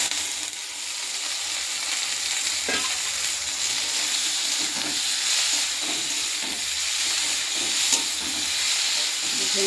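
Okra frying and being stirred into a spice paste in a pan, a steady loud sizzle throughout with occasional scrapes and clinks of the spoon, no talking.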